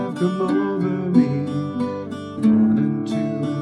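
Irish bouzouki played with a steady pick pattern through the verse chords of a song, bright plucked strings ringing close and clear, with chord changes audible mid-phrase.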